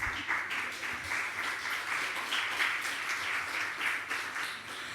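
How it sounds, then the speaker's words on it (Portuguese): Steady applause from a seated audience at a Portuguese community gathering on the social impact of Covid-19, a dense even patter of many hands holding level throughout at moderate distance, with no talk over it. "Podem aplaudir, entretanto, também."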